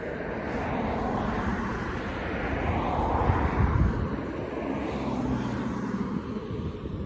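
A police drone flies overhead in an outdoor town setting, a continuous whirring drone hum that swells slightly in the middle and stays steady throughout with no talk.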